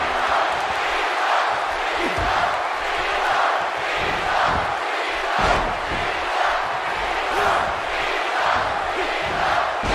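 A large, excited wrestling crowd in Columbus roaring and cheering during a match, with a constant wall of crowd noise punctuated by thumping impacts from the ring.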